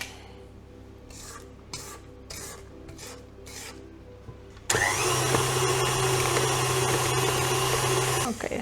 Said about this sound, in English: So now I'm going to get my mixer so we can cream the butter and sugar.